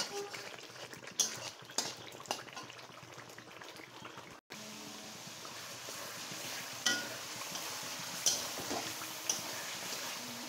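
Spice masala being stir-fried in a pan for a chicken curry, a quiet continuous bubbling sizzle with soft scraping stirs and occasional light ticks, heard alone without speech.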